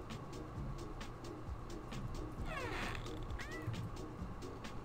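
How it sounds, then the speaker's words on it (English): A cat meows inside the video game Ghost Witch, a few short rising calls near the middle and end, set against a steady low game soundscape with soft ticking. "I love this cat."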